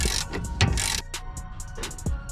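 A socket wrench with a 19 mm socket ratchets on the nut of a stabilizer link on a Nissan Qashqai, giving several close, rapid bursts of metallic clicking with short pauses between.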